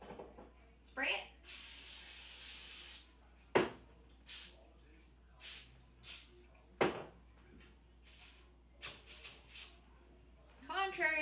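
Cooking oil spray is blasted onto a foil-lined pan in one strong, close hiss lasting about two seconds, followed by scattered clicks, handling noises and short bursts of quiet talk in a home kitchen.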